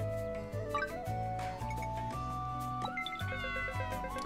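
A cat meows in the Fantasy Life video game, a short cry over steady game music.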